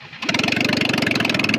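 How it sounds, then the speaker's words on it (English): A lifted Mazda Miata's engine cranks and catches, then settles into a loud, close, rapid idle that chugs in a steady rhythm. "Start your engines."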